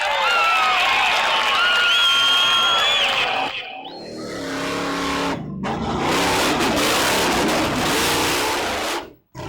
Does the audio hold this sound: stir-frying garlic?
no